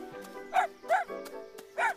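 A small dog gives three short, yappy barks, evenly spaced and close by, with quieter whimpering sounds between them.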